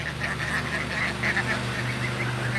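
Loud, repeated honking calls from several ducks close by on a farm, overlapping in a steady chatter over a low background rumble.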